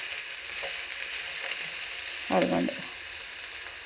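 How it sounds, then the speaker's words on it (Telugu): Onions fry in a pan for a sweet mango curry, giving a steady close sizzle that runs throughout, with a brief spoken word near the middle. "ఉల్లిపాయలు వేగుతున్నాయండి"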